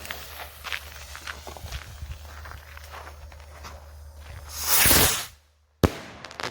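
A PROTON or TWISTER firework rocket whooshes up and bursts loudly, followed by a sudden silence and a sharp crack, after a stretch of faint crackling and shuffling.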